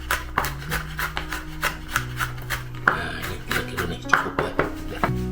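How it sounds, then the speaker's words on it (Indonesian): Knife coarsely chopping garlic on a board, a steady run of quick close taps and scrapes with roughly even rhythm, moderately loud and without speech. "si bawang putihnya cukup dicop kasar begini sudah"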